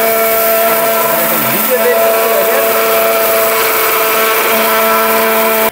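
A robot blender grinds cumin into powder, a loud steady motor whine with a sustained tonal hum that runs nearly continuously at close range, with a brief pitch dip near the start, then cuts off abruptly.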